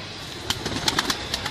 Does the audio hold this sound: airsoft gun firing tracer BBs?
no